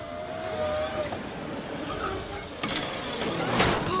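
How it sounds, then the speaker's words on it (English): A malfunctioning parking gate in an Allstate car insurance ad gives off clanking, ratcheting mechanical noises over a steady broadband rumble, with sharper bursts late in the clip. "I'm a parking gate and I'm all out of whack."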